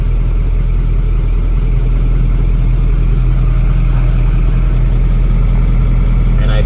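A Ford F8000 truck's 636ci V8 engine idles steadily up close, with a loud, even low rumble that holds throughout and no voices.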